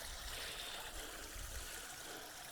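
A small mountain spring at Indian Springs on Castle Dome, Mount Shasta, trickles out of rock, a faint continuous watery hiss and gurgle with no voices.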